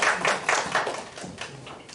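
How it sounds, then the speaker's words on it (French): Congregation at a French-language church service claps together, a steady run of fairly close, moderately loud claps at a quick even rhythm that fades slightly toward the end. "On peut l'applaudir."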